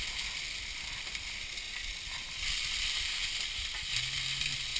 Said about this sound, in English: I'm going to take a couple minutes just to saute these onions and peppers